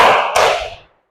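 A classroom of students claps a patterned clap in unison, a loud dense burst with a sharp accent partway through that fades out within about a second.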